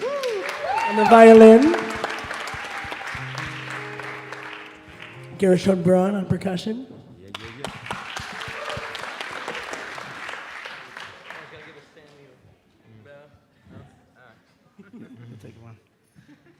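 A concert audience at a Chanukah show applauds in a sustained wash of clapping beneath an announcer introducing the musicians, with music sounding early on and the applause tapering away toward the end.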